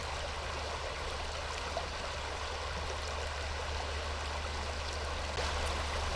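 A creek swollen with winter water rushes continuously nearby, a steady, full, unbroken roar of flowing water with no voices over it.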